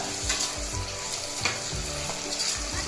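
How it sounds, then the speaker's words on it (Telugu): Finely cut tomato pieces sizzle and fry in a pan with golden fried onions, a steady close crackle with occasional stirring scrapes, no voices. "ఉల్లిపాయ దోరగా వేగిన తర్వాత సన్నగా కట్ చేసుకున్న టమాటా ముక్కలు"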